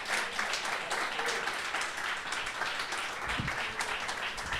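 A church congregation applauds during a sermon, with dense, steady clapping at a moderate, somewhat distant level and a few low thumps mixed in.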